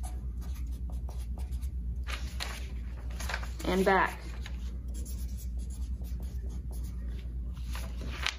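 Pencil scratching over a folded paper brochure as labels are written on each side, a steady close scraping texture under a quiet voice.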